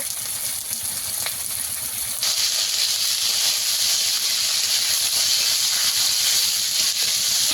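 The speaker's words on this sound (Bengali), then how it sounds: "এই আলুটাকে আমি একটু ভালো করে ভেজে নেব।" Potato pieces fry in hot oil with a continuous bright sizzling hiss that grows louder partway through, steady and close, with no talking.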